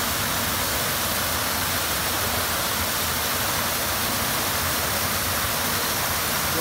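Steady, full-band rush of a waterfall at Yaşam Vadisi, a valley park, continuous and fairly loud with no voices over it.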